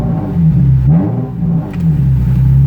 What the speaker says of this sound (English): Let me give it a couple more revs so you can hear what it sounds like on the inside.